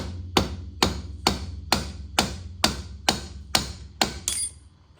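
Soft hammer striking metal nine times in an even, steady rhythm, each blow a sharp, close, solid thud with a short ring, with no talking.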